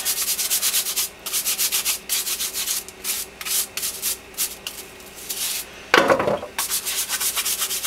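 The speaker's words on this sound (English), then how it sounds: "you get out a little scrubbing brush and scrub them up real good" A carrot is scrubbed with a small scrubbing brush, giving a close run of rapid, rhythmic bristle strokes in bursts, with a brief louder scrape near the end.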